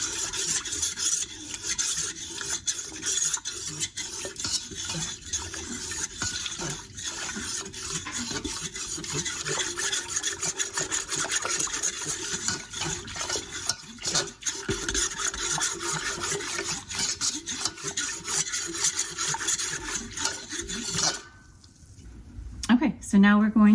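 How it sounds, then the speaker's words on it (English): A Danish dough whisk works through bread dough in a bowl, producing a continuous close rasping, scraping rub with uneven rhythmic strokes for about twenty seconds before it stops, with a voice speaking over it. "Now I'm just going to stir this together with my Danish dough whisk"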